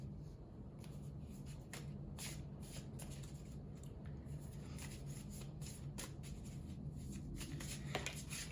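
Tarot cards are shuffled up close in a steady papery riffle of soft rapid flicks and slides that continues throughout.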